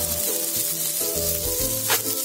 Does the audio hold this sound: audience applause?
no